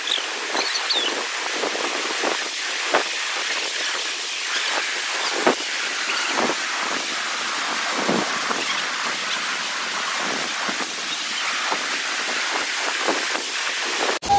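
Floodwater from the overflowing Dhandharol dam rushes in a steady, loud roar of turbulent churning, a constant broadband wash with no voices.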